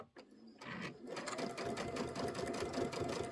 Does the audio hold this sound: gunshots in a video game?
no